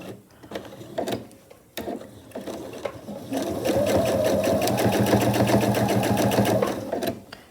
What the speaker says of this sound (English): I'm using my regular presser foot, and I'll back stitch to secure.